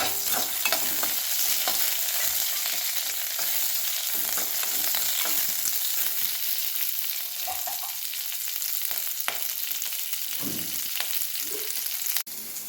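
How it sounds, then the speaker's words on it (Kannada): Green chillies and onion fry in oil in a pan, giving a steady, close sizzle with occasional stirring scrapes and clicks throughout, and no one speaks. "ಉರಿಲಿಕ್ಕೆ ಫ್ರೈ ಆಗಲಿಕ್ಕೆ ಸ್ವಲ್ಪ ಎಣ್ಣೆ ಹಾಕ್ತೀನಿ."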